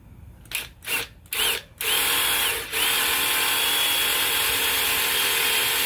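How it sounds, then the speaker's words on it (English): Power drill boring a valve stem hole in a dirt bike rim: a few short bursts of whining drill first, then a long steady high-pitched run that briefly dips before continuing, loud and close, with no talking. "Pick a hole where you're going to be putting your valve stem in."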